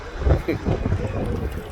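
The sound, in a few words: wind blowing into microphone outdoors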